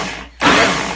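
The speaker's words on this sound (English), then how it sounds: "Pulse it and blend it until it's completely blended down." Kitchen blender blending jewelweed with water, a loud steady whir that kicks in after a brief pause and holds to the end.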